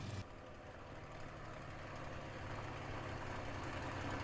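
A P-51 Mustang piston aircraft engine runs at reduced power, a loud, steady low rumble with a throbbing, knocking texture that carries on evenly and close.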